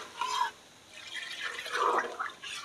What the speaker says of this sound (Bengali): এবার আমি জল ঢেলে দিলাম